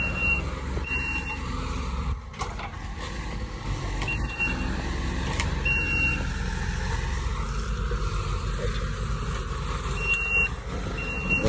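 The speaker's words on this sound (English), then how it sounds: "That's a Kubota SVL 72752." A Kubota SVL72752 tracked loader reversing during land clearing for a homestead sends out repeated high-pitched backup beeps over a steady engine rumble, heard from a short distance.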